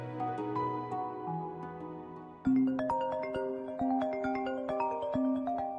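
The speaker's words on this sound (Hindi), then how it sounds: "कितनी बार मैंने तुमसे कहा है कि खाने के वक्त फोन साइलेंट कर लिया करो।" A phone ringtone sounds during a meal, a melodic electronic tune of ringing notes that repeats steadily and clearly for several seconds, with no talking over it.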